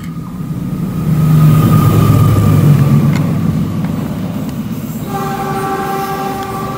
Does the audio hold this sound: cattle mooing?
no